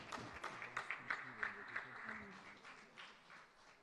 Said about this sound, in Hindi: तो तालियों की गड़गड़ाहट रुकनी नहीं चाहिए